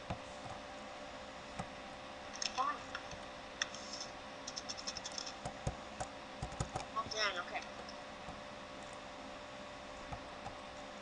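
Computer keyboard typing during a Minecraft-style game session, with scattered clusters of light clicking keystrokes, fairly faint, over a steady background hum and low voices.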